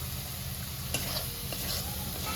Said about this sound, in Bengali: মশলাটা ভালোভাবে কষা হয়ে গেছে